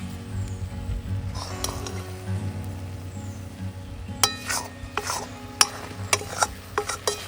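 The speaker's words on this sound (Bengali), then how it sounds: "এরকম নাড়াতে হবে, নাহলে নিচটা লেগে যেতে পারে" A spoon stirs sweet berry pickle (kuler achar) in a pan, scraping softly over a low hum, then sharper clinks of metal on the pan come repeatedly in the second half.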